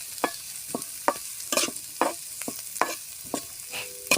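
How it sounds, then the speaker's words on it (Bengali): Chopped onions frying in white oil in a pan, stirred with a utensil that scrapes and knocks in irregular sharp strokes over a low sizzle, close and clear with no voices. "কুচি করে রাখা পেঁয়াজগুলো তেলে দিয়ে দিব। অল্প আছে কিছুক্ষণ নেড়ে চেড়ে ভেজে নেব।"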